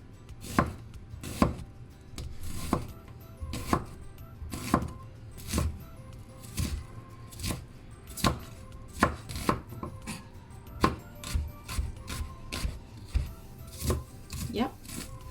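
A knife chops brown onion on a board in steady, close, crisp strokes, roughly one to two per second throughout, with light scraping between cuts and no talking.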